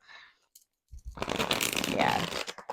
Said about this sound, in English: Yeah, they shuffle just like a US Games Systems tarot deck.